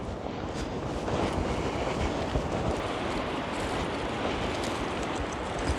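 Strong wind roars through a dark, snowy forest at about -25 °C during winter camping, a loud, unbroken broadband rush that fills the whole stretch, with no voices.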